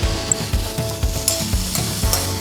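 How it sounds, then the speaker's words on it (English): Vegetables and diced tomato sauté in a pan, giving a close, steady sizzle broken by rhythmic scraping as they are stirred roughly every half second. "You're just basically sweating the vegetables"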